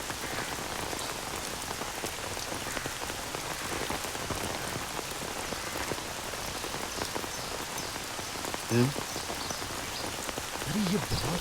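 Heavy rain pours down in a dense, steady roar, close and constant throughout, with a couple of brief low knocks near the end.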